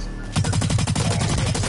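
A video game firefight opens with a brief lull, then breaks into a fast, steady stream of automatic gunfire, loud and close, each shot distinct in a rapid even rhythm.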